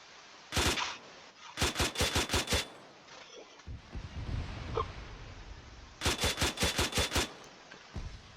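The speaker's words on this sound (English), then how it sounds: "This is a UAZ with an AGS grenade launcher on it." An AGS grenade launcher mounted on a UAZ fires in Arma 3: a single thump, then rapid bursts of five or six punchy rounds, a pause filled with rumbling impacts, and another quick burst. The shots are close and loud.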